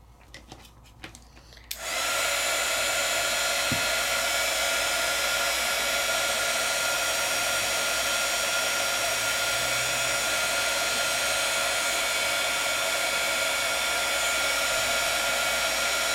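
After a few quiet knocks and clicks, a heat tool switches on and blows a loud, steady whooshing hiss while melting four wax beads in a small tin, running unbroken to the end.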